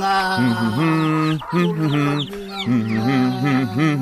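Animated chicken clucking sound effect, a quick series of close, tonal clucks and squawks in a bouncing rhythm, with a voice mixed in partway through.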